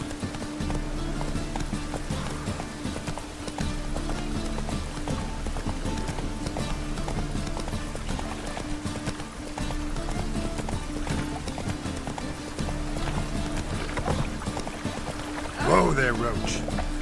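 Roach the horse gallops in The Witcher 3, a steady clip-clop of hooves under game music and a voice throughout.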